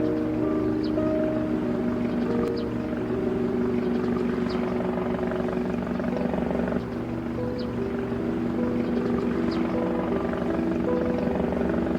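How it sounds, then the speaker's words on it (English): A helicopter in an animated film drones steadily with a throbbing rotor beat and low engine rumble, loud and fairly close, with wind buffeting the microphone. "Alright, here comes the helicopter."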